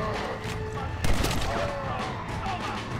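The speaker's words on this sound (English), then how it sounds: "I'm in fact using a shotgun." Gunfire sounds in Red Dead Redemption: Undead Nightmare, with one loud shotgun blast standing out over continuous game noise and other background shooting.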